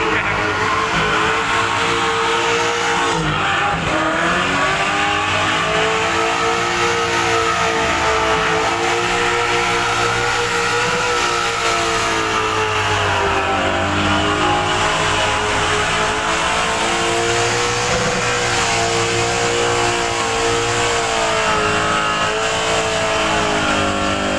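A car does a burnout at a Summernats car show, its engine revving hard and continuously with wavering pitch and tyre roar. The sound is loud and unbroken throughout, with crowd and arena noise blended in and no clear talk.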